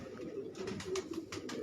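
A breeder pigeon brought from Kasur coos softly in a short series of low, rhythmic calls, close by and fairly quiet, with no talking.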